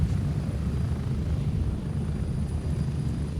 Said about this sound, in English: For example, we are in the chopper